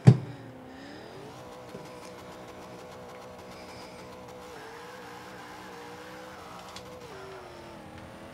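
A car engine in Forza 5 revs steadily through manual gear shifts using a clutch, its tone climbing and then dropping back at each shift, after a brief sharp thump at the start, with a moderate, sustained drone throughout.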